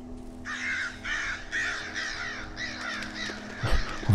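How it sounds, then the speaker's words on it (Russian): Crows caw in the dark forest of the horror game Darkwood, a run of repeated harsh caws in uneven bursts over a low steady drone, with a soft thump near the end. "Вороны."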